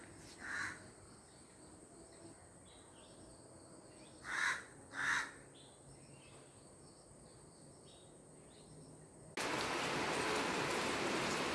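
Steady morning rain sets in abruptly near the end, a dense hiss that follows a long quiet stretch with a few brief distant calls and faint insect chirping.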